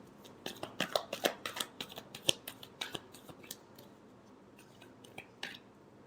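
Tarot cards are shuffled up close in a quick run of crisp, papery flicks and taps that slows into scattered softer clicks.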